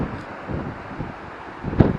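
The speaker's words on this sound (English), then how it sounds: "It's windy." Wind buffeting a microphone on the shore of a river bay while sea fishing, a low rumbling roar with a sharp gust near the end.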